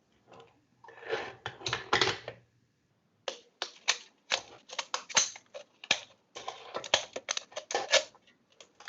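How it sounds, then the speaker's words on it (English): Scissors snip around the bottom of a metal can during a miniature bowl and spoon craft, making sharp, close metallic clicks and crunches in quick irregular bursts after a short pause. "we're just going to cut a circumference around the can to just separate this bottom part from the rest of the can"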